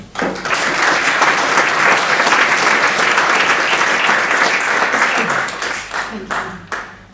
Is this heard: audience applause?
yes